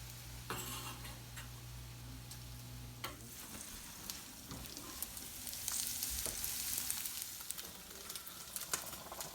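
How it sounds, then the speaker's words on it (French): Chorizo frying in olive oil in a pan, heard as a steady sizzle with occasional clinks of a utensil, while a low hum fades out early on. "On va cuire le chorizo à l'instant."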